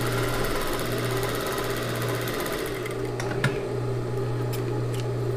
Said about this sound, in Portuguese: vou passar um ponto de franzir aqui, deixei a máquina no último número